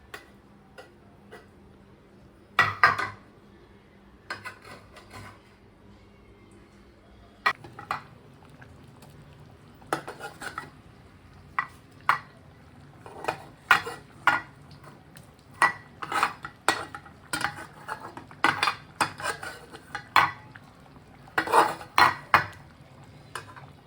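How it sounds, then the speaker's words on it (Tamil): Soft irregular plops and clinks of lentil dumplings dropped one by one into a pot of Tamil kuzhambu curry, with occasional utensil taps against metal, close and fairly quiet. "ஒன்று ஒன்றா எடுத்து குழம்புலாம் போட்டலாம்"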